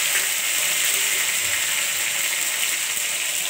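Chili dropped into hot oil in a pan already holding chopped garlic and onion, giving a steady, close, even frying hiss with no talk over it.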